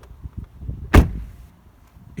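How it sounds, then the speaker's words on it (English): A 2018 Volkswagen Atlas SUV door swings shut with a single solid, deep thud, close and loud, followed by a short fading echo after a few soft shuffling sounds. "So when I shut this door, if you guys can hear this,"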